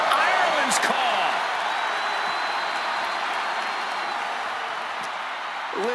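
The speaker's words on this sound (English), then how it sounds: "Listen to this crowd." Crowd noise from the WWE 2K25 wrestling video game, a dense sustained roar of cheering arena fans that stays steady and loud throughout, with a few brief sharp bursts near the start.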